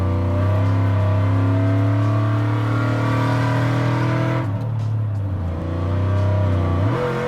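A cammed 6.2-liter Chevy Avalanche truck on 24-inch wheels idles with a loud, choppy, lumpy rumble. It shifts and pulls away, and the engine note rises as it drives off.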